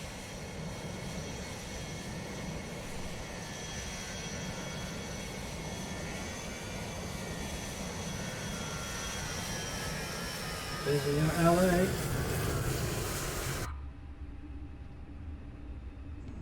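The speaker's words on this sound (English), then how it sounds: "That's engine 1 spooling up there now." Airbus A330 engine spooling up in Microsoft Flight Simulator, a steady rising turbine whine and roar with a brief louder surge before cutting off, a voice speaking over it.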